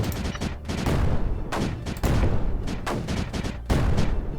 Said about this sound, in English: I think there might have been an artillery drop I didn't notice